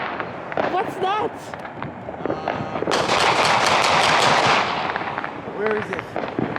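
Rapid crackling bursts of gunfire or firecrackers outside on New Year's, a dense popping barrage peaking in the middle, with people talking nearby before and after.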